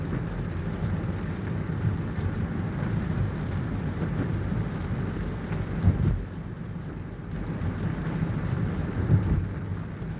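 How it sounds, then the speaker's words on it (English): Heavy rain pours steadily and densely throughout, a constant loud wash with a couple of brief low swells that may be distant thunder. "it's been a while since I've dashed in rain like this"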